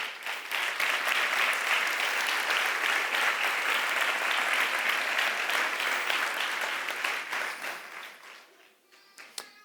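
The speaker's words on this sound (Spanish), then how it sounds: "les pido un fuerte aplauso para todos ustedes" Audience applause at a workers' gala, a dense, steady wash of many hands clapping that stays loud for most of the stretch, then thins out and fades toward the end.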